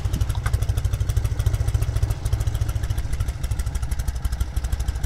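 A restored 1972 Norton 750 Commando motorcycle runs with a loud, close, pulsing engine beat, its rhythmic thump steady and even throughout, with no talk.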